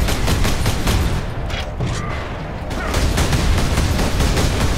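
Heavy gunfire in a Space Marines video game, with loud continuous overlapping shots that dip briefly in intensity before resuming at full force.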